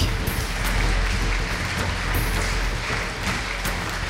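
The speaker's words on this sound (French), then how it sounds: "Allez, on les applaudit très fort," At an award ceremony for green innovation and CSR, an audience applauds five nominees with steady, dense clapping that holds at an even level throughout.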